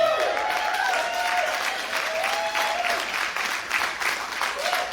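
Audience applause fills a comedy show venue, steady and sustained from many hands at a moderate distance, with faint crowd murmur beneath and no clear speech.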